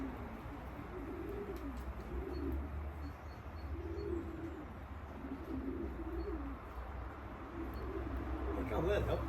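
Racing pigeons at a loft coo in soft repeated low phrases, several rounds spread evenly across the clip, with faint background talk and a few light rustles.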